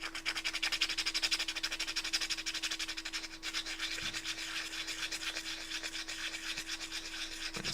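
Sandpaper rubbing back and forth on a hobby model piece, a fast continuous rhythmic rasping scrape, close and steady throughout with a faint low hum beneath.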